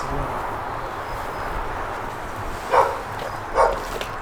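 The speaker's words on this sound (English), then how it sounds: "He might be barking now, but I don't think he's a bad dog." A little dog gives two short barks a moment apart, somewhat distant over steady outdoor background noise.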